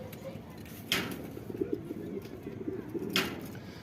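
Pigeons in a loft scuffle and coo at close range, soft repeated cooing under two sharp flaps or wing bursts, fairly faint overall.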